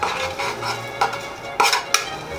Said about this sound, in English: So once this gets melted down and the mica powder is incorporated